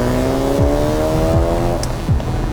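A Ford Focus RS hot hatch with all-wheel drive drives hard through corners at night, its engine note rising and dropping through quick gear changes, loud and close with no talking.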